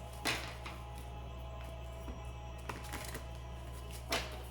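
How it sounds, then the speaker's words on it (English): Oracle cards shuffled by hand in a quiet room, giving soft papery riffles and light taps with a few sharper bursts near the start and end over a low steady hum. "Please think of your question as I shuffle the cards."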